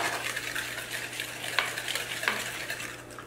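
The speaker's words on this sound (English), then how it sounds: "now we soften the butter and I'm going to add sugar and mix it all" Softened butter and sugar worked together in a bowl, a soft continuous scraping and swishing with a couple of sharper clicks of the utensil against the side, close and fairly quiet, with no speech.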